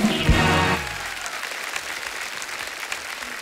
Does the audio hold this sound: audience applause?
yes